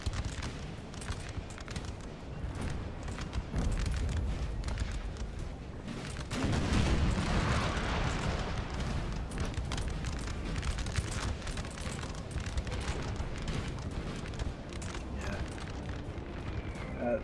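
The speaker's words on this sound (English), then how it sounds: "That artillery is causing Russia no end of problems." Artillery fire booms in a Napoleon Total War battle: a dense, continuous barrage of low rumbling blasts and crackling volleys, muffled and moderately distant, with swells in intensity partway through.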